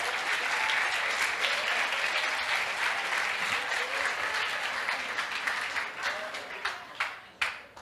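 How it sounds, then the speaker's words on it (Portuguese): A church congregation claps together in a full, sustained round of applause during a service. The sound is steady and dense, then it tapers off into a few distinct, separate claps near the end. "pode aplaudir o Senhor"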